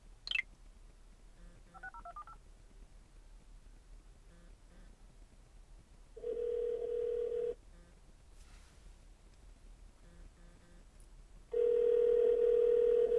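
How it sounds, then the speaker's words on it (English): A call ringing through the Bluetooth hands-free system of a 2012 Hyundai Sonata Hybrid, with soft dialing tones first, then two long electronic ringback tones, clear and steady over faint cabin hum. "Calling Kenny Fowler at the office."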